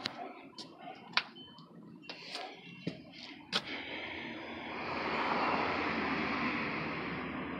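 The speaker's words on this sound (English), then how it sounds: "Excuse the traffic coming down the road here." Traffic passing on a road beside a parked 1952 Chevy truck rat rod, a broad rushing swell that builds and lingers in the second half after a few scattered clicks and knocks nearby.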